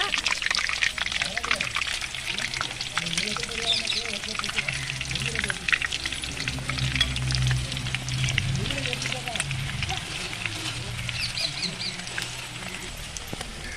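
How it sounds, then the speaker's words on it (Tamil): Sliced raw nendran banana frying in hot oil for chips, a steady crackling sizzle with bubbling that runs throughout, fairly close, while a person talks over it. "நமக்கு வந்து காய் வந்து செதுக்கி விட்ட உடனே இந்த மாதிரி சலசலப்பு இருக்கும்."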